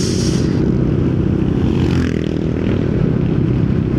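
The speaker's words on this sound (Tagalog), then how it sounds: "VMAX Onyx silent killer pipe or muffler. 0 to 80 kph." A Yamaha NMAX scooter fitted with a VMAX Onyx silent killer muffler accelerates hard from 0 to 80 kph, its engine a loud, continuous drone heard up close, with wind rush and no voices.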